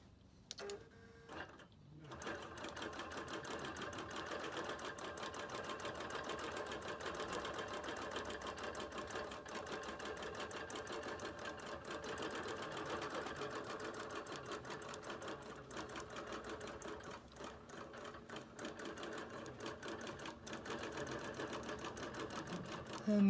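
A Bernina Q-series long arm quilting machine stitching steadily, a fast continuous mechanical whirring with rapid rhythmic needle clatter that runs unbroken for over twenty seconds.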